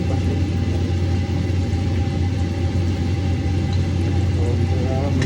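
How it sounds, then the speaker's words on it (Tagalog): A kitchen exhaust fan runs steadily while breakfast is cooked, a loud, even drone with a low rumbling hum that never changes across the whole stretch, with no voices over it. "medyo maingay lang kasi ang exhaust inon ko"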